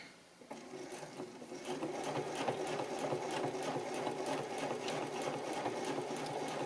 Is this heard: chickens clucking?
no